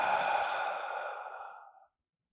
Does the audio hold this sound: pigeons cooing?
no